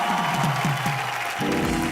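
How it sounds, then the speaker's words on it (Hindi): Studio audience applause on a Hindi TV entertainment show after a live singing performance: steady clapping from a crowd, mixed with lingering music tones, sustained through the short moment. "जोरदार तालियां।"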